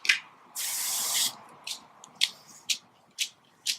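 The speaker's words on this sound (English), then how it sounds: "So just spray into your hand" A can of silver spray paint hisses close by, first in one long burst of nearly a second, then in a string of short, sharp puffs with brief quiet gaps.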